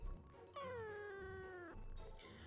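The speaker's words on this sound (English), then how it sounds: "now it sounds like a cat" A cat meows once in the Hidden Cats in Spooky Town video game, a single drawn-out, clear mewl lasting about a second that falls slightly in pitch, set against quiet background game ambience.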